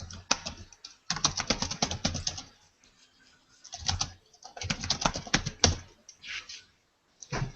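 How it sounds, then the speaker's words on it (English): Rapid, forceful typing on a computer keyboard in bursts of dense clicking separated by short pauses, close and fairly loud, with no talk over it. "That's some angry typing I hear."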